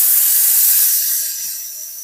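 A StmWorld steam cleaner releases a steady, bright hiss of steam up close, which gradually softens as the burst tapers off.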